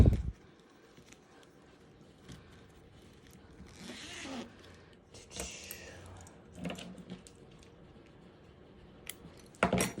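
A zipper on a zip bag is opened fully to the far zipper stop, giving a few quiet, short rasping pulls among soft taps and handling sounds in a quiet room.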